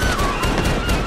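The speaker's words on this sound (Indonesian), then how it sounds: "Mendengar tembakan itu, lalu penjahat lain di gerbong utama pun menembaki atas gerbong" Gunfire from a subway train hijacking scene in the film The Taking of Pelham 123: loud, close, rapid repeated shots packed into a brief burst of fire.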